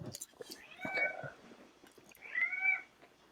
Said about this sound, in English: I mentioned the cat, and there she is.